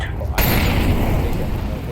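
A grenade blast in Counter-Strike 2 on the Vertigo map, a sharp onset followed by a loud, broad rumbling boom that lingers for about a second and a half.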